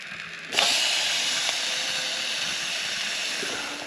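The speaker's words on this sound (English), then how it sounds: "time to put a steak on" A steak hits a hot pan at a motorcycle campsite and sizzles in a sudden loud, steady broadband hiss that holds on close by.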